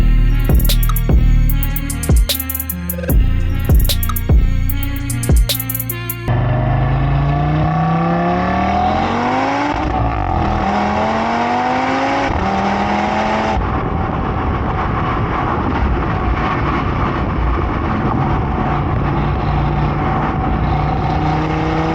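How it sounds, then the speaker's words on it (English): A 2022 Audi RS3 sedan's engine takes over after a few seconds of rhythmic music, its note sweeping upward in loud, close revving pulls before settling into a steady hard-driving drone. "And that engine tone is coming from the 2022 Audi"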